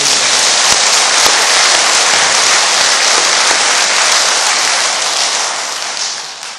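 Congregation of Seomun Church applauding together, a loud, dense wash of clapping from many hands that fills the room steadily and tapers slightly at the end.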